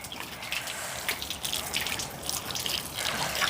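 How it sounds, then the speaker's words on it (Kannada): Hot water gushes steadily from an instant geyser tap, a continuous splashing flow heard up close. "ಬಿಸಿ ಆಯಿತು ಬಿಸಿ ನೀರು ಬರ್ತಾಯಿದೆ"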